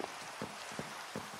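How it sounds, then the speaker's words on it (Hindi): Rain in a video game falls as a steady, quiet hiss with soft drop taps at regular intervals, heard on its own with no talk. "बाहर बारिश चल रही"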